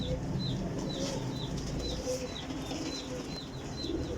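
A female pigeon, a prized but somewhat weak hen from a champion high-flying breed, gives soft repeated coos with a steady run of high, short chirps and a faint flutter of wings close by.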